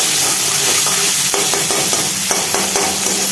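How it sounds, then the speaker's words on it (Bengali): Onions and garlic fry loudly in a pan, with a dense, constant sizzle and a few stirring clinks, close up and without voices. "এই পেঁয়াজ ভাজার সময় পেঁয়াজ আর রসুন ভাজার সময়"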